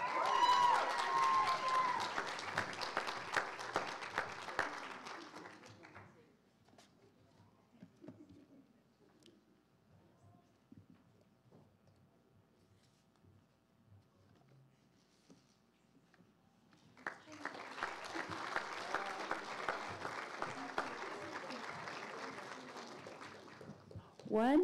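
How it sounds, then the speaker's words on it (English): An audience at a white coat graduation ceremony for medical speech-language pathology students bursts into loud sustained applause, falls quiet for about ten seconds, then applauds again. "One final round of applause for our 2022 MedSLP White Coat recipients."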